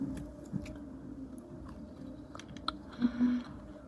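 Close chewing of a warm, freshly baked Starbucks-style cookie with a crisp outside and soft middle, soft crunchy bites and moist mouth sounds with a few sharper crunches near the end, no talking.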